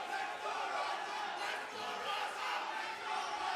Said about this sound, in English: The crowd is electric tonight, ladies and gentlemen.